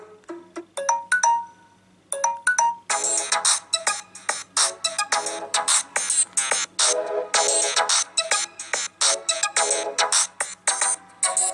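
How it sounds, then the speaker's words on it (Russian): A Samsung Galaxy Tab A 10.1 tablet's speaker plays a melodic tune, first a few separate chime notes, then a louder continuous stretch of music that fills the rest. "Так он звучит."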